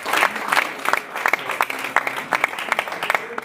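An audience claps for a boxing champion at a press conference, steady, dense applause from a room of people, with a few louder individual claps standing out throughout.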